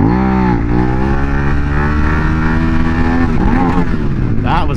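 A 2019 Suzuki SV650X motorcycle engine hums steadily up close and then revs higher near the end as the rider sets up a wheelie.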